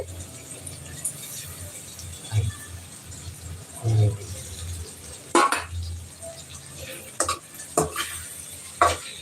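Squid being tossed with onion and tomato in hot oil, intermittent scraping and clinking of a spoon against the pan over a faint sizzle, strokes coming in irregular bursts.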